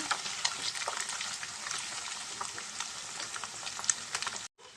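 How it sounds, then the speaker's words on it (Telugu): Egg for fried rice frying in a pan gives a steady, dense, crackling sizzle heard close and evenly throughout, with faint stirring scrapes, cutting off abruptly near the end. "ఎగ్ బాగా ఫ్రై అవ్వాలి ఫ్రెండ్స్ ఎగ్ బాగా ఫ్రై అయితే మనకు ఫ్రైడ్ రైస్ కూడా చాలా బాగుంటుందండి"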